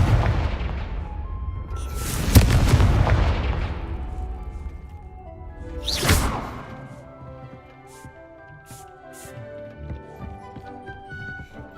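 Confringo fire spell explosions in the video game Hogwarts Legacy: two booming blasts a few seconds apart, each with a rushing decay, followed by lighter clattering effects and a low background.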